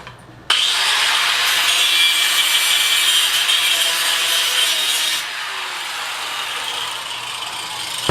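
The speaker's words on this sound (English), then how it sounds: "Let's grind that off." An angle grinder cuts through a stuck nail or piece of metal in a wood pallet, a harsh, loud, bright continuous grinding that starts abruptly, holds for several seconds, then drops to a slightly softer whine as the cut continues.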